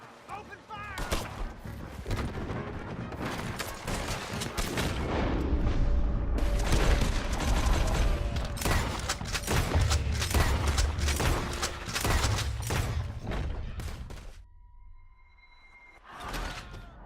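A Red Dead Redemption 2 shootout, with dense overlapping gunfire, booms and action noise that build over several seconds and then cut to a quieter tail.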